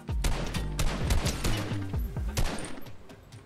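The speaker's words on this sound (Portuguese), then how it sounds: "eu tô ouvindo tiro pra cá" Rapid bursts of gunfire in the Fortnite battle royale game, with dense overlapping shots and several sharp louder cracks close by, continuing steadily through the whole stretch with no talking.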